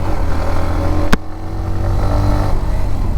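Hero Glamour X motorcycle pulling away from a standstill, its engine note rising steadily and close, with a brief sharp click partway through and continuous rumble throughout.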